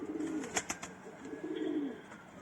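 Soft, low pigeon coos roll along steadily, close by, with a few brief brighter chirps from other birds scattered through.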